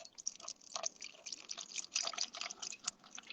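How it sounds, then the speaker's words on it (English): A drink poured during a casual live show, heard as a faint, continuous splashing trickle with small drips, fairly close and steady throughout. "Listen to the pour."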